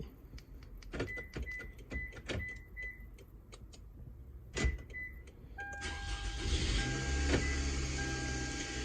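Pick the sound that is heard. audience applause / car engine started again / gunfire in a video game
car engine started again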